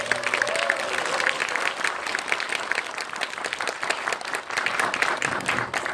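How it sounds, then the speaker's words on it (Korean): A live Korean talk-show audience breaks into dense, steady applause, a thick wash of many hands clapping together without pause. "응원 한번 박수 주시고"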